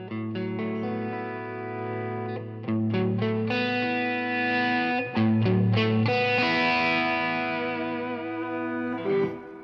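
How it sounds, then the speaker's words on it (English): Electric guitar played through the drive channel of a Fuchs amplifier, thick sustained distorted chords and notes ringing loud and continuous with some effects-like shimmer, no talking over it. "as I control my guitar volume, I can adjust how intense my distortion will be"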